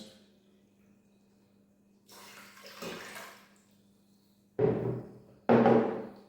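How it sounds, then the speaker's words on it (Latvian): Water from a glass is poured into a pot of rice in a home kitchen, arriving in three separate splashing bursts that grow louder, with quiet pauses between them. "Un 2 glāzes ūdens."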